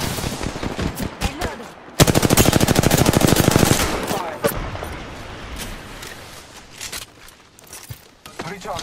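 Automatic weapon fire during an Apex Legends match, a loud rapid burst of shots lasting about two seconds followed by scattered single shots and distant gunfire, with game voice lines heard around it.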